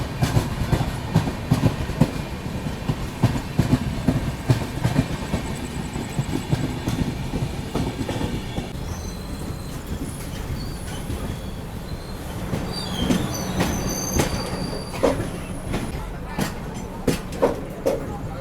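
Netravati Express running from Mumbai to Trivandrum rolls along the rails, a steady rumble of wheels and carriages with squealing and clacking bursts, close and continuous, with some voices mixed in.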